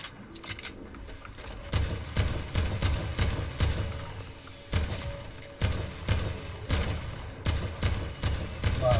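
Rapid automatic gunfire rings out in the video game Fortnite during a live concert event, with several rhythmic volleys of sharp shots repeating steadily one after another at moderate loudness.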